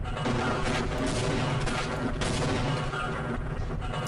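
Machine gun grenades exploding in the game Half-Life: a dense, continuous wall of loud blasts and rumbling booms, heavy and unbroken throughout.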